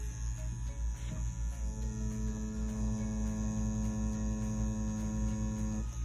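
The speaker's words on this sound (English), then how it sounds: "so that way you can see the XNET Elite right here, wireless tattoo machine in action." Wireless XNET Elite tattoo machine running at 7.5 volts, a constant close electric buzz with a low humming drone that holds steady throughout, no voices.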